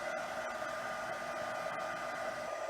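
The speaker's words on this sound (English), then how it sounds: "Okay, so now I'm going to bring my heat tool in. So I'm going to be making a little bit of noise." A heat tool melts clear embossing powder on a card, giving a steady close blowing whir like a hair dryer that holds evenly throughout, with no talking.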